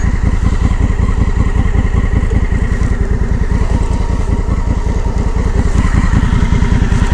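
A Honda Africa Twin motorcycle engine idles and revs nearby, a loud, steady, pulsing thrum with rapid regular firing beats throughout and no voices.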